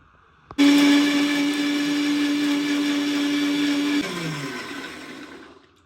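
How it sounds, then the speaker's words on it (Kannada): A mixer grinder grinding ingredients for masoppu (greens) sambar switches on abruptly and whirs loudly at a steady pitch for about three seconds, then winds down and fades. "ಇದನ್ನು ಫಸ್ಟು ಗ್ರೈಂಡ್ ಮಾಡ್ಕೊಳ್ಳೋಣ"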